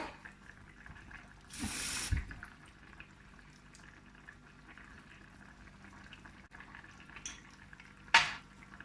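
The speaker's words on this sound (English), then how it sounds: "I'm going to drop more cold water." A short burst of rushing, splashing water is poured in, over a steady low bubbling simmer, with a small clink near the end.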